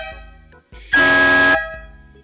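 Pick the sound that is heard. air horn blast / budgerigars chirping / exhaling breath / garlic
air horn blast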